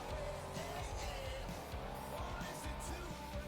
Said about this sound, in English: Drifting that truck around